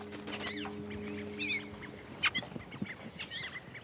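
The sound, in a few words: calls of carrion birds in Torres del Paine, Chile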